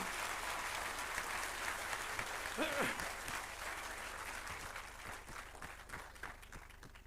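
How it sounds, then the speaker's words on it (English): An audience at a memorial lecture applauds a lecturer with steady, sustained clapping that fills the hall and slowly tapers off, while a faint voice rises briefly above it. "please give a huge round of applause for Dr."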